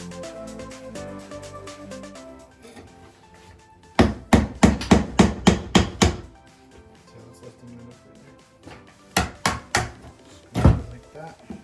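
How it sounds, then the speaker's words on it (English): A hammer taps a putty knife under a laminate countertop to free it. Two quick bursts of sharp, close, loud knocks ring out, around six strikes and then four, with a quieter background between them. "get a putty knife and a hammer and just kind of tap it in all the way around"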